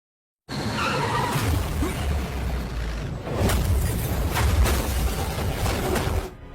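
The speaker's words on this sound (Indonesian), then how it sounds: "mobil Pitel ditabrak oleh preman yang dibayar oleh Krishna" A car is rammed in a film crash scene, with a loud continuous roar of skidding tires and scraping impact noise lasting several seconds, punctuated by sharp crunching bursts.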